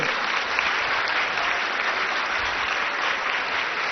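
Loud, dense applause from an audience at a public event in Delhi honouring the Lieutenant Governor, continuous and even throughout, with no talk over it.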